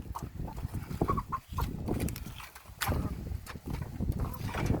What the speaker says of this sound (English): so I got the greens in there, and the chickens go crazy for them